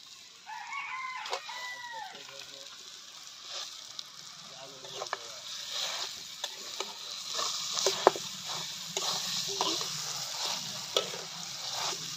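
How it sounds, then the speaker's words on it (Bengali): Spiced mashed potato frying in a pan makes a low, steady sizzle broken by repeated scraping and tapping of a stirring utensil, while a rooster crows once in the background at the start. "যে আলুটা মেখে রেখেছিলাম এবার দিয়ে দিলাম"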